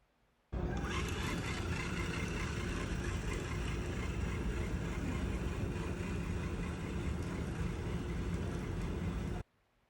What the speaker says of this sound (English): You can see this results in slightly choppy motion, but the rover does drive straight.